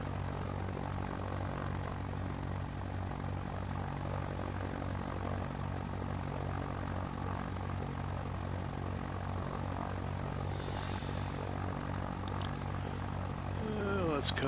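Steady propeller drone of a Piper Cub light aircraft engine in flight at reduced power during a landing approach, a continuous low hum with a brief higher whine near the end, heard from inside the cockpit.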